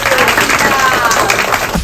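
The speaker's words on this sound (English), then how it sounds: "let's give her a round of applause" Loud, close applause for a first-grade award recipient at a school award ceremony, a dense burst of clapping that holds steady and then cuts off sharply.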